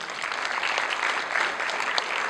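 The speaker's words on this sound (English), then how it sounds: "How about giving them a big round of applause?" An audience at an EU-supported project closing ceremony gives a steady round of applause, a dense, even wash of many hands clapping at moderate distance with no voices over it.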